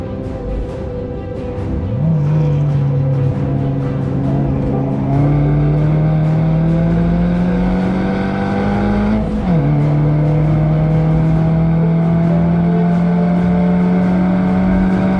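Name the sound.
Toyota Yaris racing a lap at Laguna Seca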